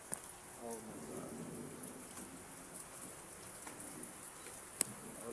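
Steady rain falls on a rainy day, a faint, even patter of drops with occasional louder ticks and a single sharp drip near the end, with a brief murmur of a voice early on.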